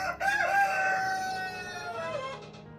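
A laying hen at a nesting box gives a long drawn-out call close by, rising then trailing off, with a few softer clucks and no talking.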